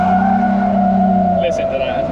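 Drifting car sliding with a sustained tire squeal and engine tone, loud and close, the squeal ending abruptly partway through.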